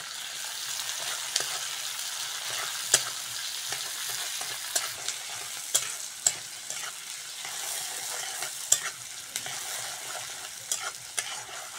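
Onion and green chilli frying in hot oil for a fish curry, a steady close broadband sizzle with scattered sharp clicks and utensil taps throughout, no voices.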